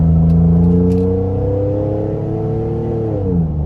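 A car with a swapped NAG1 automatic transmission valve body accelerates moderately near 4,000 RPM, its loud, steady engine drone rising in pitch and then dropping as the gearbox shifts from second to third.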